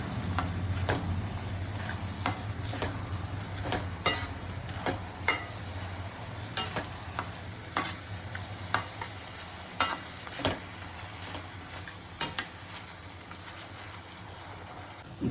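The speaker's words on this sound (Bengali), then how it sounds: "ব্রাউন ব্রাউন করে ভাজা হয়ে গেছে" Chopped onions frying in a pan with a pinch of sugar and salt, a soft steady sizzle broken by sharp, regular clacks of the spoon stirring and scraping, close up with no voices.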